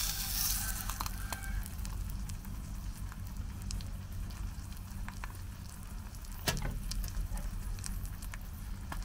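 Steady low roar and soft crackling sizzle from breakfast simmering on a PFM40 Swedish stove outdoors, constant throughout with an occasional sharper pop.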